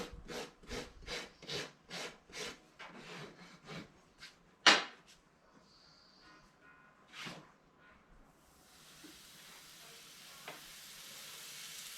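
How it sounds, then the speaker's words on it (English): A farrier rasps back the toe of a horse's hoof, a horse that has had laminitis, in about nine steady, close rasping strokes, followed by a sharp knock and a soft hiss. "I'm gonna just rasp a little bit of this toe back for the rocker."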